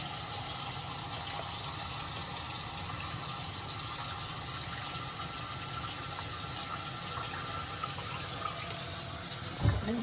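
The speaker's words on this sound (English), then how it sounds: "Meat has to be carefully washed." Meat is washed under a steadily running tap, with continuous splashing water close by and a brief knock near the end; no talking.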